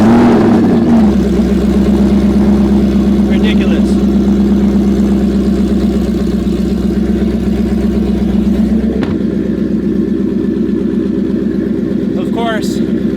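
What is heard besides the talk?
supercharged Roush Stage 3 Mustang engine revving and idling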